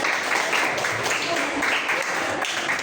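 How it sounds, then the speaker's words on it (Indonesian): Classroom applause for a student group, a dense sustained clatter of many hands clapping together at close range, steady and loud for the whole stretch. "Ada beri tepuk tangan untuk kelompoknya."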